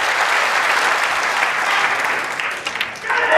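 Loud, close, sustained applause from a snooker crowd at the Masters quarter final, honoring a break by Ronnie O'Sullivan, a thick wash of clapping that dips briefly near the end before swelling again.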